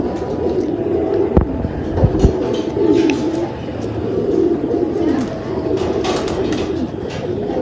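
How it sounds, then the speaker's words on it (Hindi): Lal Pari pigeons cooing, soft repeated throaty coos rising and falling over a low background hum, with a couple of sharp knocks, close by and without talk. "उनके बकौल तो ये लाल परी कबूतरों में से है"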